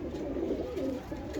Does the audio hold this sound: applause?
no